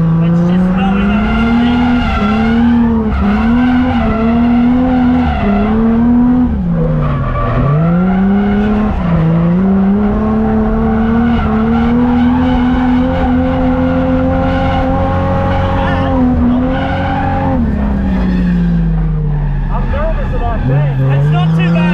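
A Ford AU Falcon drifts with its engine revving hard and tires squealing in long, wavering howls, loud and close throughout.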